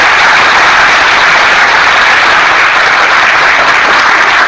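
Classroom group clapping in a teacher training session: loud, dense, continuous applause from many hands, steady throughout with no pauses.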